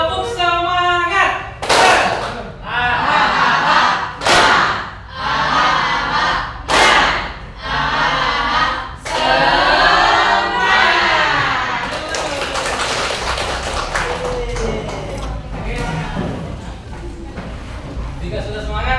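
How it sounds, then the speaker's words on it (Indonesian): Classroom group performing a rhythmic spirit clapping routine: bursts of loud unison claps and thumps in a patterned beat, mixed with children's chanting voices. "Untuk memberikan semangat kita tepuk semangat."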